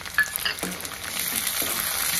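Chopped onion and peas hit hot oil in a pan, a brief clatter at the start settling into a rising, steady sizzle, close and alone without speech.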